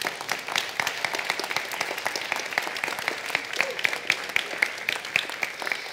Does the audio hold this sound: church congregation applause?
yes